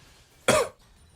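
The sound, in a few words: cough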